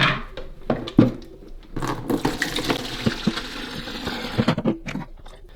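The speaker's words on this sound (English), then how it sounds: "I'm just going to empty all this old water out." Old water pours out of the removed tank of an Aurora Aqua Optima hot and cold water dispenser, a close splashing and gurgling stream into a sink, uneven with sloshing surges, no talking.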